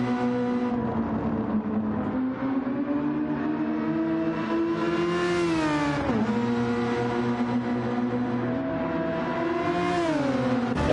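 Race car engine in a historic racing simulator during a fast lap, a loud, sustained high-revving whine that climbs in pitch and drops sharply at gear changes or braking, with no talk.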